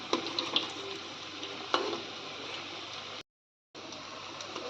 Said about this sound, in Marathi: तर दुसऱ्या बाजूने मी तळून घेते व्यवस्थित उलटवून